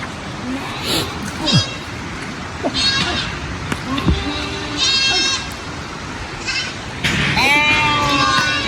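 A young goat kid bleats repeatedly in short, wavering cries scattered across the span, fairly close, while people talk around it and children's voices mix in.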